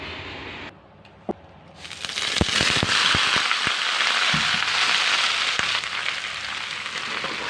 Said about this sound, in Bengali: এক চিমটি সর্ষে, জিরে, ইলাচ ফল, কাঁচা ঝাল, একটা পেঁয়াজ, একটু রসুন, সবগুলো একসঙ্গে বেটে নিতে হবে